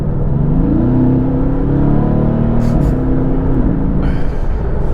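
Sports car engine held at a steady, loud rev with a rising and falling pitch, close and continuous, with a brief extra whine near the end and no talking.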